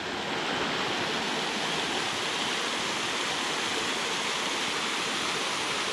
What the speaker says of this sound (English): there's like this small waterfall here